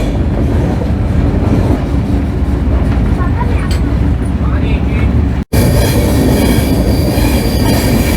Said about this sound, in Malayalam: സ്ലോയിലാട്ടോ ട്രെയിൻ പോകുന്നത്